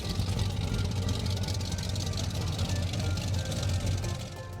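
A Statement 42 powerboat powered by Mercury Racing 700 SCi engines during the Key West Poker Run, a steady throbbing engine drone with low rumble, moderately loud and continuous, tapering slightly at the end.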